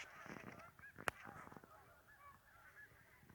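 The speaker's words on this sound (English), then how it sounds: "There's a lot of geese going by, Canada geese." Faint, distant Canada geese honking in scattered calls as they fly over ponds, amid an outdoor hush, with one sharp click partway through.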